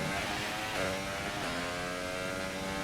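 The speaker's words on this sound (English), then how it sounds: "There is the Mercedes sound" Mercedes engine powering a McLaren in a racing video game, a steady droning roar with stacked harmonic tones holding fairly constant pitch, loud and continuous throughout.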